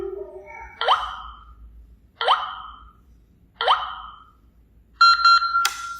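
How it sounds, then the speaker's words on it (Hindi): An Elara smart door lock beeps electronically during a factory reset, giving three evenly spaced rising chirps and then a longer, louder multi-tone jingle, all close and clear over near silence. "5 बीप के बाद आपका लॉक फॉर्मेट हो जाएगा।"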